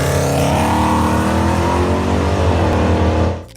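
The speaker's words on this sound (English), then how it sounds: "Number 11, the 1968 Dodge Dart GTS 383." A 1968 Dodge Dart GTS muscle car with a 383 big-block V8 holds a loud, close, rumbling engine roar at steady revs, then cuts off abruptly near the end.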